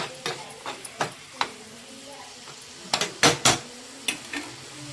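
Carrot laddu mixture bubbling in a pan while it is stirred, with soft simmering under a series of sharp spoon scrapes and clinks against the metal. A voice talks over it.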